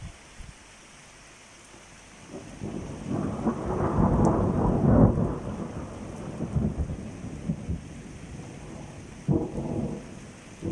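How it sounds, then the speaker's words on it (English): A thunderstorm on a summer day, with rain hissing steadily while a long deep roll of thunder builds and rumbles, fading before another shorter crack, no voices. "the thunder and lightning is now starting to really pick up"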